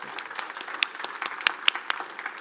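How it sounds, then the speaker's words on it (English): Audience applause at the iGaming NEXT New York City 2022 live event, a steady wash of clapping from a crowd with a few sharper, closer claps standing out, at moderate loudness. "Let's have a round of applause for our..."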